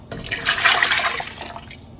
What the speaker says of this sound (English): With the same cup I'm measuring another 5 cups of water.